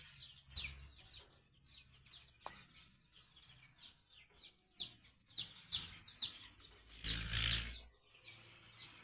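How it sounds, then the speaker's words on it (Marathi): Many small chicks peep in rapid, high-pitched bursts, fairly faint, with a brief louder rustle and scuffle near the end. "तर ही शंभर पिल्ले आणलेली आहेत आज आपण सकाळी"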